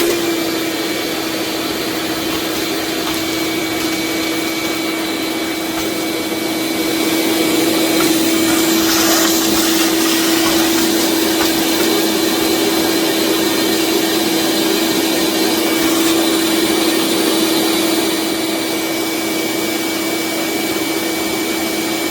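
Ridgid 12-gallon 5.0 peak HP wet and dry shop vacuum running continuously with a steady motor whine, loud and close, rising slightly in intensity midway, with no talking.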